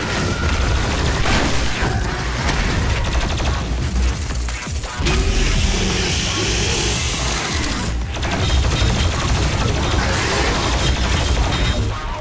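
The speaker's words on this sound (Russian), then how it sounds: "Плазменная пушка." A plasma gun in DOOM Eternal fires in rapid bursts, with crackling electric blasts, mechanical clanks and booming impacts, loud and dense with brief pauses.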